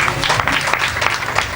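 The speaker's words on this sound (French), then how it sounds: "sous vos acclamations, s'il vous plaît" Loud, dense clapping from the crowd at the opening ceremony of the P.E.B.Co-BETHESDA agency in Lokossa, a brief sustained burst of many hands clapping at once.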